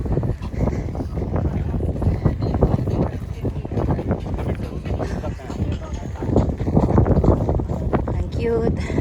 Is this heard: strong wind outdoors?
yes